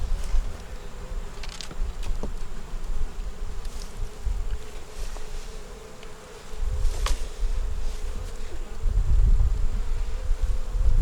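Honeybees buzz steadily around a deep nuc hive that has been robbed out, leaving few bees and the queen; a continuous close insect drone with brief louder passes, no talking.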